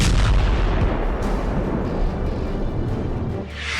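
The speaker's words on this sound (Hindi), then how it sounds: "यूक्रेन ने रूस के ब्लैक सी हेडक्वार्टर पर मिसाइल से हमला कर दिया है।" Loud, continuous low rumbling blasts and roar from a missile strike on the Russian Black Sea Fleet headquarters, booming steadily with a brief lull near the end.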